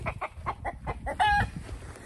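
A rooster and hens cluck in a quick rhythmic series, with one short sharp squawk partway through, near and moderately quiet.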